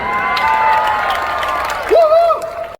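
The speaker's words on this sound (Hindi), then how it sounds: "एक बार अपने आप के लिए जोरदार तालियां बजाइए।" A live comedy show audience in Chicago cheers and claps loudly, building into a rising whoop near the end, with crowd noise filling the whole stretch.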